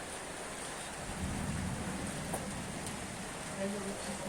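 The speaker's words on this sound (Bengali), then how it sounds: "আমাদের এখানে প্রচুর বৃষ্টি হচ্ছে এবং বজ্রপাত হচ্ছে" Heavy rain pours down steadily as a dense, even hiss, with low thunder rumbling under it, loudest in the middle and swelling again near the end.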